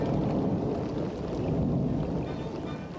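Steady heavy rain falls with a deep rolling rumble of thunder during the first rains of the season in the Caatinga dry forest, a dense continuous wash of sound with no voices.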